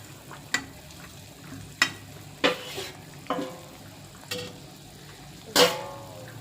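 A hilsa fish head drops into hot oil for a curry, giving off scattered sharp sizzles and spitting pops every second or so over a low, quiet bubbling hiss.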